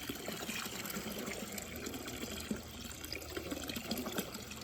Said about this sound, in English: it'll fill up real heavy and then gush itself and then spill over the top